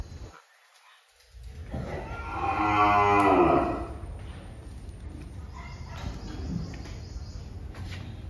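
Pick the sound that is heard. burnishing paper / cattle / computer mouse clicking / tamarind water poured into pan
cattle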